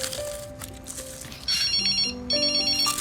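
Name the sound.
phone ringtone ringing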